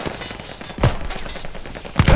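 Gunfire in Call of Duty Vanguard, with rapid automatic bursts and heavy, booming shots in a dense, loud battle mix, no speech.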